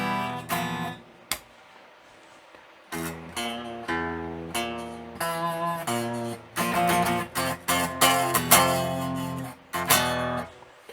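An Epiphone electric guitar plays a clean tone with no effects. Plucked notes and chords ring and decay in an uneven rhythm, clear and moderately quiet, with no talking over them.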